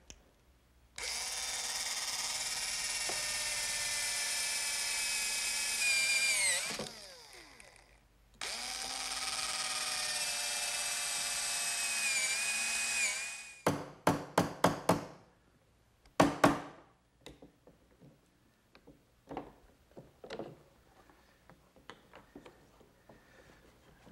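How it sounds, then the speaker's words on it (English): Power drill boring into workbench wood with a brad point bit in two long sustained runs, followed by a series of sharp chisel strikes and chopping taps as material is cleared away, close and loud with no talking. "So I'll do that by using a brad point bit and a chisel to remove"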